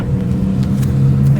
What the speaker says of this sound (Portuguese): Vamos dar uma voltinha de Prisma.